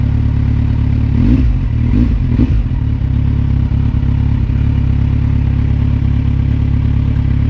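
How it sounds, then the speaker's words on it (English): A 2019 Kawasaki Ninja 1000 superbike with a one-litre engine starts and settles into a loud, steady, close idle, with a few early clattering bursts as it catches. "my first start on a 1 liter class bike."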